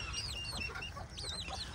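Old English and Azteca chickens cluck close by in short, quick bursts with a few higher squawks, over a low background rumble.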